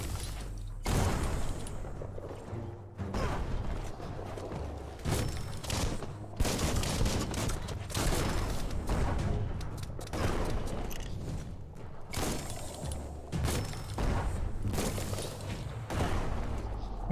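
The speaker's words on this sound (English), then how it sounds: "That's a bomb lobber." Repeated booming explosions and gunfire from a bomb lobber weapon in the Biomutant video game, loud and dense throughout with bursts of blasts following one another.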